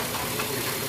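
Honda Jazz IDSi engine running steadily just after a carbon cleaning tune-up, a constant close idle hum with slight knocking texture and no talk.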